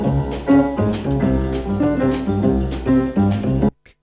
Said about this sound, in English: Nice little degradation.